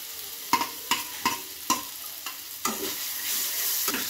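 Potatoes and cauliflower cooking in a spice masala give off a soft sizzle, punctuated by a series of sharp scraping and stirring knocks from a spoon against the pan at irregular intervals.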